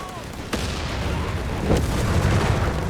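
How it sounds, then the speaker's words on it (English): A Stummel 75mm cannon fires in the real-time strategy game Company of Heroes 3, one sharp report near the start and a heavier boom later, over a constant wash of battlefield noise. "Firing out the rifle with the Stummel,"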